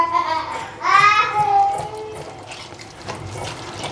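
Water is poured into a spiced batter mix of chili powder and salt, a short nearby splash and trickle that quickly settles into faint stirring noise.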